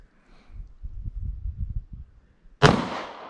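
A single sharp gunshot cracks out at an outdoor shooting range in Tennessee, loud and close with a short ringing decay, after a couple of seconds of low rumbling handling noise.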